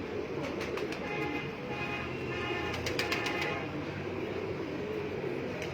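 Pigeons coo softly on a rooftop, low repeated calls under steady outdoor background noise, with a few brief higher chirps, moderately distant and faint.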